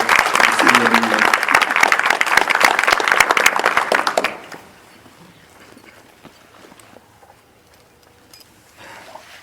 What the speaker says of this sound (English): can we give just a warm applause for both candidates for our mayor of the city of Mineola